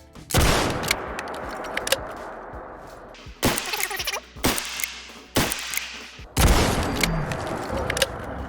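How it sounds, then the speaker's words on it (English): Buckshot rounds from a grenade launcher mod in Fallout 4 fired in a slow series of about six heavy booming shots, each followed by a short rumbling decay. "Here we have the buckshot. This is pretty simple, just point and shoot."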